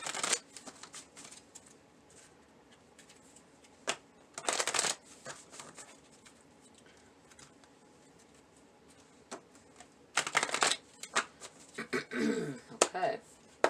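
Tarot cards are shuffled in several quick riffling bursts separated by quieter pauses, close and crisp, during a reading, with a voice talking in between.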